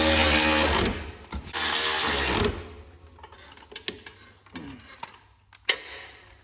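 A power tool tightens the rear bracket bolts on a John Deere transmission, two loud whirring bursts of a second or so each, followed by quieter clanks and clicks of tools and metal parts.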